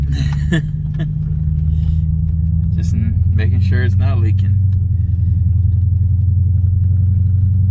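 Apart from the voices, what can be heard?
car engine running on a test drive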